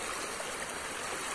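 Steady broadband rush of the Suaza River flowing nearby during a fishing outing, a continuous loud wash of moving water with no pauses or voices.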